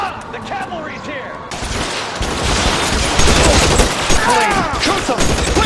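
A shootout in the video game L.A. Noire erupts in dense, loud bursts of rapid gunfire and sharp single shots that build in intensity, with shouting voices mixed in.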